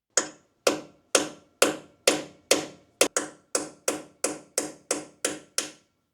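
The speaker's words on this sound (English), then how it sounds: "I wonder if I could just hit it out with a big-ass hammer" A hammer knocks at a broken self-tapping screw, about fourteen sharp metallic blows in a steady, evenly spaced rhythm, each ringing briefly before the next, close by and moderately loud with no talk.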